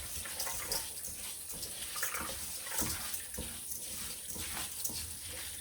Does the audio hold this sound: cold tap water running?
yes